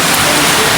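Heavy rain falling on a roadside, a dense, steady hiss that fills the short moment without a break, loud and close, with no voices over it.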